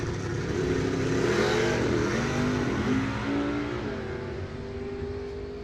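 A 1972 Chevelle sportsman car accelerates hard down a drag strip, a loud, steady engine roar rising in pitch through its run and easing slightly toward the end, with no voices over it.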